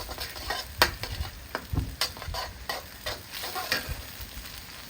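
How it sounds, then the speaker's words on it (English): Curry paste, lemongrass and curry leaves sizzle in a pan for Malaysian chicken curry while a spatula scrapes and stirs in frequent close strokes. "Continue to stir to prevent the curry paste stick"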